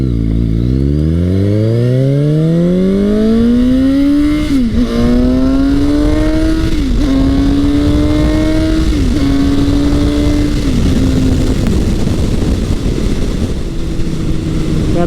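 A 2018 Suzuki GSX-S750 fitted with a Yoshimura slip-on exhaust accelerates hard through several gears on the road, loud and close, its engine note climbing and dropping at each shift before settling to a steadier cruise.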